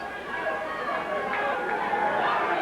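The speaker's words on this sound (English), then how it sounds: "They're yelling at him over that side." A wrestling crowd at a 1985 Portland Wrestling event yells and jeers at Mr. Ebony, a steady wash of mixed voices and babble that swells slightly toward the end.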